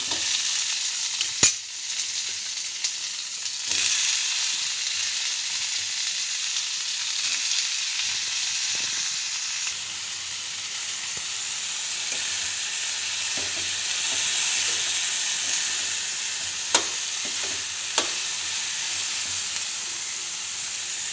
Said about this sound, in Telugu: ఇప్పుడు పచ్చి టమాటాలు వేగాలి కాబట్టి ఇప్పుడే వేసుకొని బాగా వేయించాలి.